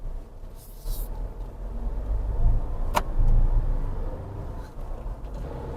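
Cabin view of a 2026 Tata Punch with a 1.2-litre naturally aspirated engine pulling away in first gear, a steady low engine rumble that swells slightly as it moves off, with a single faint click midway.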